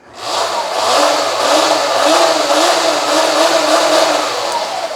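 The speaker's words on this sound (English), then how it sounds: "since the bike's live, as soon as I give it any throttle" A live motorcycle engine revving under throttle, loud and steady close up with a wavering engine tone and no pauses.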